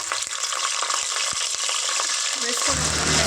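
Mustard seeds, dried red chillies and curry leaves sizzle and crackle in hot oil, a steady close frying hiss with a few sharp pops and a brief stir near the end.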